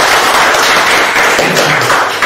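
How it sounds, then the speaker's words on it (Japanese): Studio audience applauding during a prize-draw segment of a live Japanese broadcast show, a dense, steady patter of many hands clapping close by and filling the whole stretch without a break. "拍手していいのかな"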